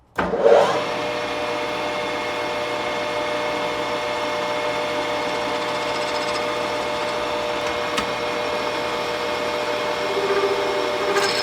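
A metal lathe runs a slow-feed finishing cut at 800 rpm, giving a steady mechanical drone with a whining tonal hum that holds for the whole stretch, close and fairly loud, with no talking.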